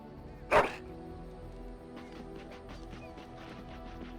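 A dog gives a single loud, short bark near the start, followed by quieter rhythmic whimpering or yipping sounds against a faint background.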